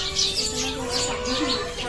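Small birds chirp and twitter at dusk in a Chhattisgarh village home, high, thin calls repeating throughout over low background murmur of voices and household noise.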